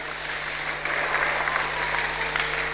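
Congregation applauding at a church sermon, a steady dense wash of many hands clapping close by, with a low electrical hum underneath and no talk over it.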